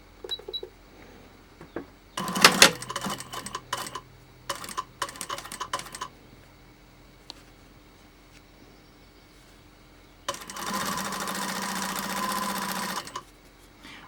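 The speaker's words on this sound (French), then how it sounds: "Là, on fait un point d'arrêt." Sewing machine stitching backstitches on a fabric face mask while securing elastic inside the hem, heard as short bursts of clattering stitches, then a longer steady run near the end.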